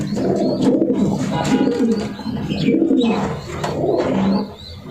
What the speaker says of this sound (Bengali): এটা হলো হাজার ক্যাম্পের কবুতর